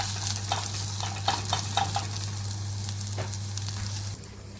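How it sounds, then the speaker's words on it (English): Onions for mujadara sizzle in a pan under steady frying noise, with several quick scraping stirs near the start, set against a constant low hum from a nearby pressure cooker that cuts off near the end. "let's quick stir the onions"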